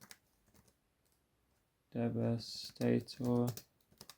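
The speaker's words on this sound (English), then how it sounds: "We're going to type in SS86 Devastator" Typing on a computer keyboard while entering a web search, with quick bursts of close, clicky keystrokes separated by short pauses.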